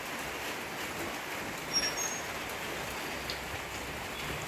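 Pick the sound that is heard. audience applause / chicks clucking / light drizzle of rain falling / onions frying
light drizzle of rain falling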